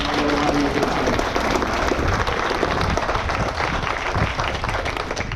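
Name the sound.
crowd applause at groundbreaking ceremony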